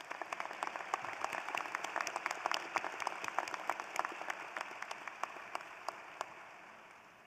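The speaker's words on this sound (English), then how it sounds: "Graduates, let's give a round of applause to our family, friends, mentors, and encouragers who supported you during your time as a graduate student" Applause at a spring 2022 graduate hooding ceremony for the families, friends and mentors of graduate students, thin and fairly distant, with a few sharp individual claps standing out above a soft steady patter that slowly fades.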